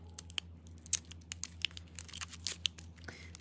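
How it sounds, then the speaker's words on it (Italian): A plastic packet of washi tape being torn open by hand, crisp crinkly tearing and rustling in a quick irregular series of sharp close bursts, with no speech. "apriamo il washino così ve lo faccio vedere"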